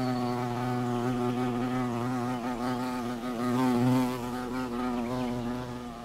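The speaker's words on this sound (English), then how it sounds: "Here we have a bee in flight." A computer-animated 3D model of a bee in flight produces a steady, droning wing buzz with a strong low hum and rich overtones. It continues unbroken for the whole stretch, close and fairly loud, with a slight swell partway through.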